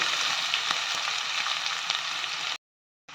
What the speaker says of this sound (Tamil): அடுப்பை சிம்மில் வச்சு வதக்கிக்கலாம்